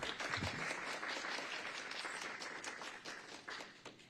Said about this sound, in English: Please join us in giving a warm round of applause for Amanda Ewing.